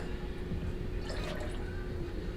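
Melted candle wax is poured back from a container, giving a soft, steady liquid trickle and faint dripping, close and quiet, with no talking.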